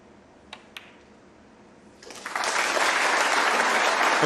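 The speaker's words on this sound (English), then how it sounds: "Applause greets John Higgins' second century today." Two sharp snooker-ball clicks are followed by quiet, and then a snooker arena audience bursts into loud, sustained applause for John Higgins' century break at the 2022 Champion of Champions.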